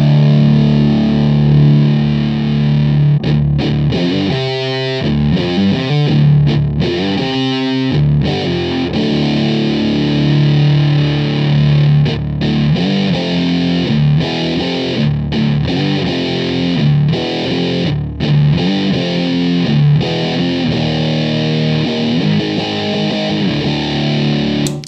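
Electric guitar runs loud and thick through an Electro-Harmonix Big Muff Civil War fuzz pedal, heavy saturated distortion sustaining through chords and riffs for about twenty-five seconds, with a few brief stuttering choppy bursts, no talking.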